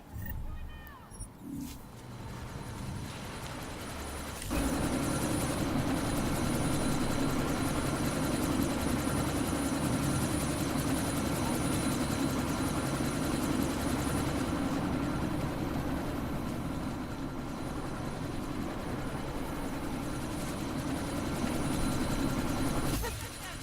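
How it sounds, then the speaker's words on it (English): A helicopter sits ready to take off, its steady rotor whine and engine drone rising suddenly and holding loud and constant, with a shouted voice over it at the start. "That chopper's about to take off!"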